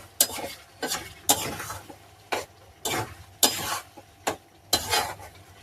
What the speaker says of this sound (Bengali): কড়াইটা একটু কষিয়ে নেবো।